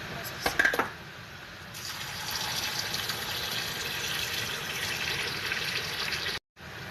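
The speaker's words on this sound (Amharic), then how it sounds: "እዚህ ጋር ሩዛችንን ያጠብነውን እንደዚህ እናጠልና በደንብ ስታጥቡት ውሃው እንደዚህ ጥርት ያለ ይሆናል ማለት ነው።" Rice being rinsed and drained in a kitchen, a steady broadband rush of poured water running for several seconds after a few brief knocks at the start, then stopping abruptly near the end.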